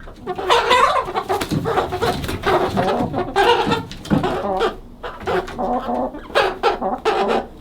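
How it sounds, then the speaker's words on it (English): Chickens clucking and squawking in a chicken house, a busy, continuous run of loud nearby calls from several birds with no talk over them. "that's a mean chicken"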